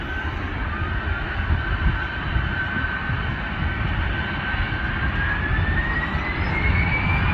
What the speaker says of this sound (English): We have a Ryanair on final.